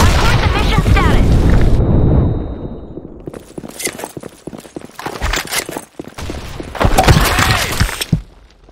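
Explosions and blasts in a shooter video game, beginning with a loud, rumbling boom that fades out, followed by a sustained series of sharp, crackling impacts and detonations that swell again toward the end.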